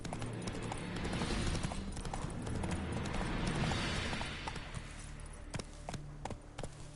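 A horse running in The Witcher 3 video game, its hooves pounding in a fast, continuous clip-clop over game ambience, easing off toward the end with a few sharp thuds.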